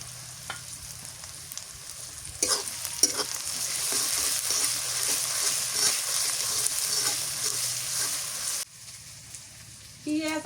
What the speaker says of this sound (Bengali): পেঁয়াজ মশলা ভালো করে ভেজে নিতে হবে